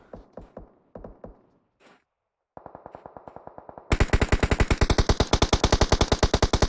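Gunfire in a first-person shooter clan match: a few spaced single shots, then a pause, then rapid automatic bursts that grow louder and denser into sustained machine-gun fire with echo.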